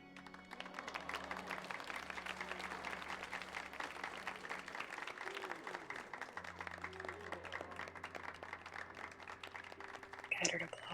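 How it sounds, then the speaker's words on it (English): Scattered crowd applause from the Final Fantasy XIV video game forms a steady patter of clapping lasting throughout, with a voice speaking over it. "Scattered applause."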